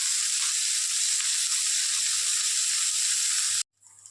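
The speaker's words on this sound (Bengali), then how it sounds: "এটা হালকা ভাজা ভাজা হতে থাক" Pieces of drumstick (moringa) fry lightly in a pan with a steady, soft hissing sizzle that stops abruptly just before the end.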